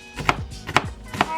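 Three crisp knife chops through carrots on a cutting board, evenly spaced about half a second apart, close and distinct with no talk.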